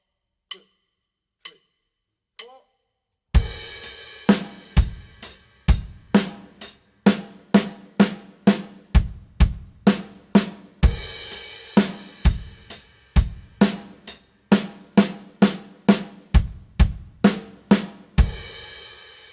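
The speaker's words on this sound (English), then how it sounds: "with a 1-bar drum groove starting with a crash cymbal, it would sound like this." Drum kit playing a one-bar groove that opens on a crash cymbal and moves into an eighth-note fill, loud and close, with sharp repeated hits after three quiet opening clicks.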